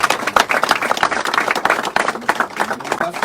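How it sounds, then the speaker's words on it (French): An audience at a conference applauds, brisk and dense clapping from a crowd heard close and continuous throughout, with a few faint voices mixed in. "J'ai envie que d'abord on l'applaudisse."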